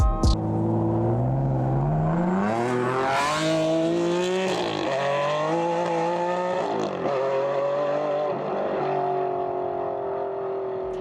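A red Ferrari Enzo with a 6-litre, 651-horsepower engine runs loud and steady, its engine note rising and shifting through several revving sweeps, close and continuous with no talk.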